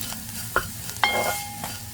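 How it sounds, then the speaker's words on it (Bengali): Tiny dried shrimp being stir-fried in a pan, with a soft sizzle under two sharp scraping stirs and a brief metallic clink, close and fairly loud, with no voices. "এখন খুব সামান্যই নাড়িয়ে চাড়িয়ে নামাতে হবে কারণ এই চিংড়ি মাছগুলো একেবারেই ছোট"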